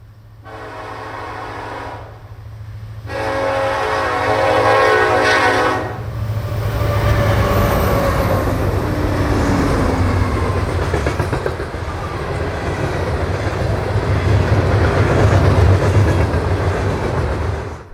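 An SD70ACE locomotive leads freight train 19G past a hotbox and dragging-equipment detector at milepost 79.9, horn blasting twice up front, then a loud steady engine drone and rolling wheel noise continuing throughout.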